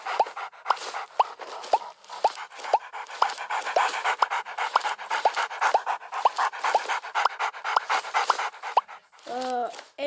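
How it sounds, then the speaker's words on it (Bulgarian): A puppy in a pet care video game pants in quick, rhythmic bursts for about nine seconds, close and clear, followed by a short whimper at the end. "И ето го кученцето."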